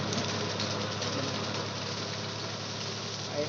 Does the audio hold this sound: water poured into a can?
no